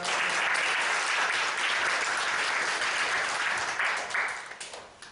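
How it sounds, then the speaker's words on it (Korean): A lecture audience in Korea welcomes a visiting chemistry professor with dense, continuous applause that holds steady for several seconds and then tapers off at the end. "먼저 우리 이규봉 교수님 인사할 때 박수 한번 보내드리겠습니다."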